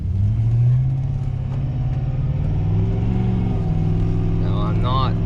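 Ford Powerstroke diesel truck with a muffler delete, towing a load at half to three-quarter throttle, gives a steady loud low engine drone that rises a little as it pulls, with a voice speaking briefly near the end.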